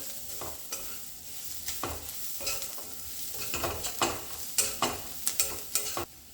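A coconut, garlic and coriander paste is sautéed over low heat for a carrot dish, with a soft sizzle and regular spatula scrapes against the pan. The scrapes grow louder and closer together toward the end.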